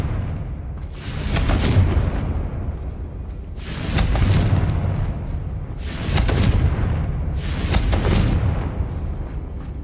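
Confringo fire-blast spell explosions in Hogwarts Legacy, heard as four heavy booming blasts spaced a couple of seconds apart, each swelling and fading over a low rumbling battle background.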